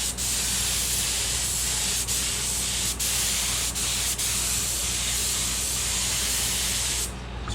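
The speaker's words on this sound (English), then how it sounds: "Got my gun all set up and ready to go." An airbrush spray gun lays light coats of paint onto an AMT 1:1400 USS Enterprise model kit, a loud continuous hiss with brief pauses in the spray, then a sudden stop near the end.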